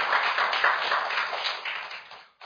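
A steady burst of clapping from an audience at a public lecture event, welcoming guests, fairly loud and continuous, then cutting off abruptly at the end.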